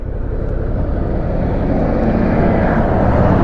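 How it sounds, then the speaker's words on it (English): A tractor rumbles along a country road, a steady, fairly loud low engine drone that holds level and builds slightly as it draws nearer, with no voices. "A country road with some tractor."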